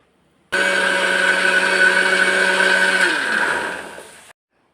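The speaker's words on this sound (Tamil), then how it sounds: "மிக்ஸி ஜாரில் போட்டு நல்லா அடித்து எடுத்துக்கலாம்" A mixer grinder whirs loudly and steadily while blending spice paste for about four seconds, then winds down and stops.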